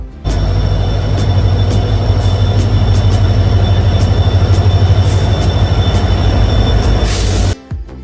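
A passenger express train rumbles steadily along the rails near Honavar railway station with a heavy low roar and rhythmic clatter, close and loud, with brief high squeals near the end before it cuts off.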